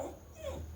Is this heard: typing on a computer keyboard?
no